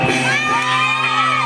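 A congregation shouts and cheers together at a Filipino praise and worship service, a loud, sustained crowd roar over steady tonal music.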